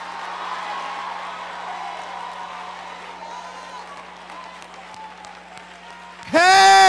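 A congregation claps during a sermon, the applause building early and tapering gradually while a preacher's voice breaks in loudly near the end.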